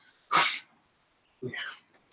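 A voice imitates a sneeze: one sharp, breathy burst, then a second softer sneezy exhale a moment later, close and clear.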